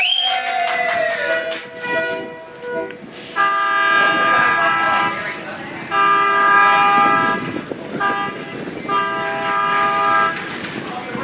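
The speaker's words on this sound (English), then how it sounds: "The sequence of horns you may have heard" A train horn blows loud, near blasts in a long-long-short-long pattern at a Colorado crossing, the sustained tones broken by brief gaps, with rail rumble beneath.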